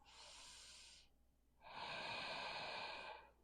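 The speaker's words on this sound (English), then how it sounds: "2 more breaths." Deep breaths during an Ashtanga-inspired yoga pose: a steady exhale of about a second, a short pause, then a longer, louder breath of nearly two seconds, close and airy with no talking.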